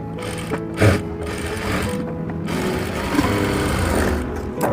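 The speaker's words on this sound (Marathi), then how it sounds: "आता याही साईडचे जे आकार आपण शिवून घेऊया डबल शिलाई मारते" A sewing machine runs a double seam on palazzo pants, its fast, steady mechanical whirr continuing through the clip with a brief louder burst near the start, up close, with no talking.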